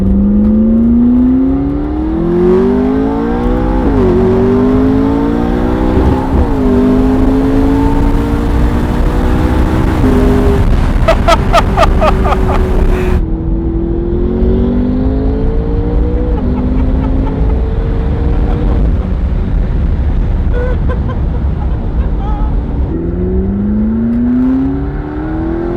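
McLaren 650S fitted with a Kline Innovations Inconel exhaust, revving loudly and repeatedly, engine pitch climbing and falling through gear changes, with turbo whistle and a burst of crackles midway, close and continuous, no speech.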